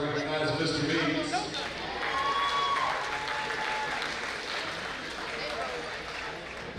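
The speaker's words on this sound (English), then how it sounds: "Everybody give a big round of applause to these teachers." A crowd applauds steadily in a large, echoing high school gym at a boys' basketball game, with a few whistles and shouts mixed in as the clapping gradually fades.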